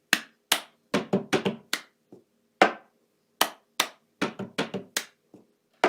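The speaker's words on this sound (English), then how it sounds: "clap, clap, table, table, clap, up, down." Hand claps and table taps play a cup song rhythm, with crisp, close, separate hits in quick patterned bursts and short pauses between the phrases. No one speaks.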